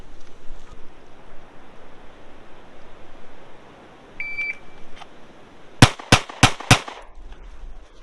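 At a shooting range, a handgun fires four sharp, loud shots in quick succession near the end, preceded by a short electronic timer beep over a quiet outdoor hush.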